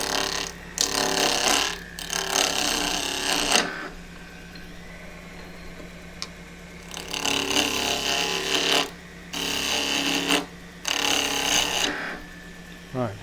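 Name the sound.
wood lathe turning a small bark rim bowl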